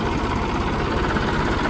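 A large, high-horsepower tiller tractor engine idling close by: a loud, steady low-frequency chugging rumble with even pulsing and vibration, no voices over it.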